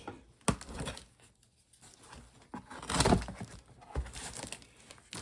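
A shipped package wrapped in bubble wrap is cut and pulled open: sharp snips and tearing, then crinkling and rustling of plastic, close and fairly quiet with short pauses.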